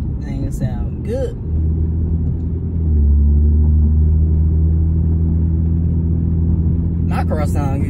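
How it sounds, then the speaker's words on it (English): A big V8 car engine and exhaust idling with a deep, steady rumble, loud and close throughout; someone talks briefly at the start and end over it. "Y'all hear that big, good old V8."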